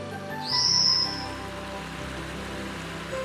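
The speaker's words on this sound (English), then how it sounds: "the Formosan whistling thrush calling in its distinctive high sharp-pitched whistle" Formosan whistling thrush giving a single high, sharp-pitched whistle near a forest trail with a waterfall, clear and fairly close, over a steady rushing of water that continues afterward.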